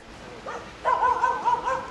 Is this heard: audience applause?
no